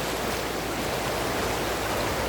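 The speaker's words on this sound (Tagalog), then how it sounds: "Alon lang yan. Agos lang yan, agos lang yan." Strong river current rushing with waves, a steady broadband wash of moving water heard close and loud throughout, with no voices.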